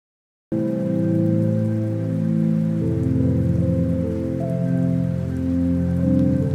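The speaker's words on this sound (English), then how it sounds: "It's raining." Steady in-game rain patters after a brief silence, a constant wash of drops with a low tonal hum running underneath throughout.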